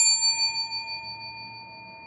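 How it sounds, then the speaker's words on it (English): A concierge desk bell struck once, giving a bright metallic ding that rings out and slowly decays over about two seconds, close and clear. "concierge bell, so I'm gonna just hit it."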